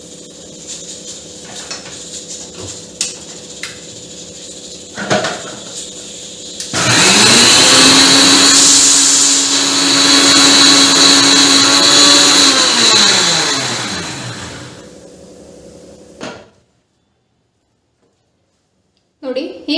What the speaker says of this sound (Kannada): ಇದನ್ನ ಇವಾಗ ಕ್ಲೀನ್ ಆಗಿ ರುಬ್ಕೋಬೇಕು